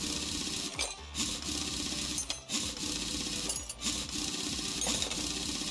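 In Car Mechanic Simulator 2021, a car wheel comes off with a steady mechanical whirring and rattling of a power tool, broken by short clanks at intervals, with no talking.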